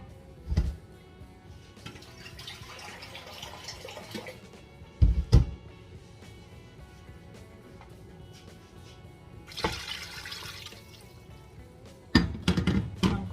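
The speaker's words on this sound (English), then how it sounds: "I'm going to be adding some water into" Water poured into a pot of marinated chicken while cooking African chicken nkwobi: a few short splashing bursts and faint trickling between soft kitchen clunks.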